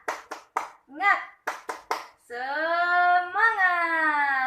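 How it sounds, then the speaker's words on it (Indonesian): Schoolchildren in a classroom do the tepuk semangat spirit clapping routine: a run of about seven sharp, rhythmic hand claps, then the class breaks into a loud, sustained group chant close by. "ayo sekarang anak-anak kita tepuk semangat terlebih dahulu."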